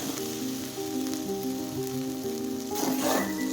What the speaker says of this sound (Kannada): ಇವು ನೋಡ್ರಿ ಸ್ವಲ್ಪ ಫ್ರೈ ಆಗ್ಯಾವ ನೋಡ್ರಿ